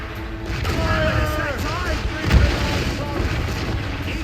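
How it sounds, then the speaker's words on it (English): Ship cannons fire in a naval battle in the video game Assassin's Creed Rogue, a heavy boom landing mid-clip amid wind, creaking and sea noise while voices shout orders. "Cannon ready! Fire!"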